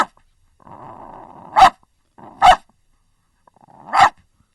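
A person imitates a dog, giving three loud, close, sharp barks, each preceded by a low growl, with short pauses between them.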